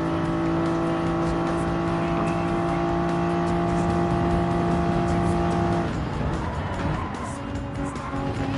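A race car engine at full throttle in a racing video game, heading into the pits: a loud, steady, high droning whine that holds a constant pitch, then shifts and roughens toward the end.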